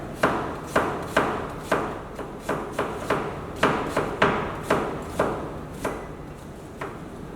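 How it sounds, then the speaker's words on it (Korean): An onion sliced into thin strips with a knife on a cutting board, about fifteen crisp, close chops in an even, slightly irregular rhythm, each a sharp knock that fades quickly, with no voices. "마지막으로 양파까지 채를 썰고 준비하도록 하겠습니다"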